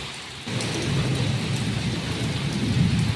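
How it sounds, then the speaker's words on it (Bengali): Heavy rain pours steadily on surfaces while a low thunder rumble rolls in after a brief quieter moment and continues throughout, with no voices. "আচ্ছা একই রকমভাবে বিদ্যুৎ চমকাচ্ছে, খুব মেঘ ডাকছে।"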